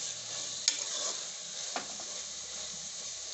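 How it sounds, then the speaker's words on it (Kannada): Oil sizzles steadily in a pan while Togarikaali Bhat ingredients are fried and stirred, with a couple of sharp scrapes and clinks from the spoon against the vessel. "ಎಣ್ಣೆಲೆ ಫ್ರೈ ಮಾಡಿರೋದು"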